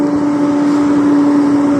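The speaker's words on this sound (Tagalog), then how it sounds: "May truck, oh. Malaking truck." A large truck passes on a road, a steady loud engine drone with a constant tonal hum holding through the whole stretch, no talking over it.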